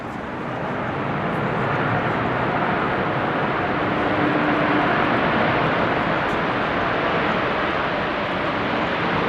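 A Qatar Airways airliner at Amsterdam Schiphol Airport on a windy, rainy day, a loud continuous broadband jet roar that swells slightly and holds steady, close by, with no talking.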